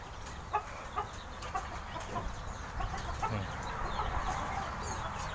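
Jungle fowl, a bantam-type chicken, clucks near a house beside the forest, short scattered calls at first, then a busier run of clucking over a steady outdoor background.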